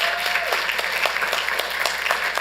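Audience applause breaks out at a Santa Ana city council meeting marking Chicano Heritage Month, a sustained wash of clapping from the room at a steady level.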